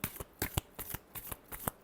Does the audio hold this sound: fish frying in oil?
no